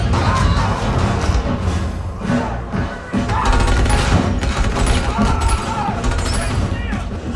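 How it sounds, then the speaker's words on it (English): Gunfire from the film The Batman: dense, loud rapid shots and crashes in a continuous barrage, with dialogue and reactions mixed in. "they're definitely shooting each other"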